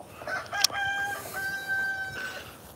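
A chicken crows and clucks outdoors in a rare-fruit garden, giving a single drawn-out cock-a-doodle-doo with a sharp squawk near its start. The sound is moderately distant and fairly soft, with no talking over it.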